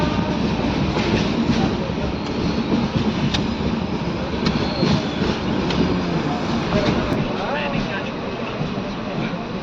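A train pulls into a station with a rumbling, rattling roll of wagons and faint clicks of wheels over rail joints, steady and close amid a crowded platform where voices murmur in the background.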